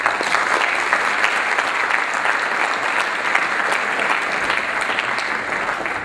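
Steady, sustained applause from a lecture audience welcoming the speaker to the podium, dense clapping that continues evenly throughout without talk.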